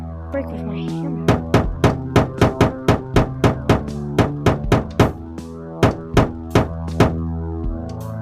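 A hammer in the video game Please, Don't Touch Anything smashes objects with a long run of sharp, loud, close blows. The strikes come in quick clusters with short pauses between them and no voices.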